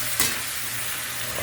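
Onions sizzling in a frying pan while tofu-and-pork is cooked, a steady close hiss with a brief louder stir near the start.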